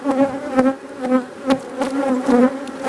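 Angry honeybees buzzing around a hive, a dense, loud swarm drone with individual bees zipping close past, steady and continuous with no voices.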